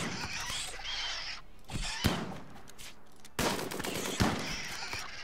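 Gunfire in the colony-building game RimWorld during a fight with undead: rapid bursts of shots and sharp impacts, moderately loud, with several hard thuds standing out over continuous busy game noise.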